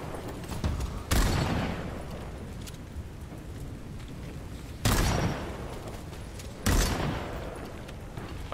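In the video game Bloodhunt, three heavy bursts of gunfire erupt at uneven intervals, each a loud broadband blast that decays slowly into a dense, noisy game backdrop.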